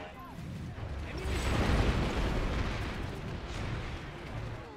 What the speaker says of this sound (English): A sticky grenade.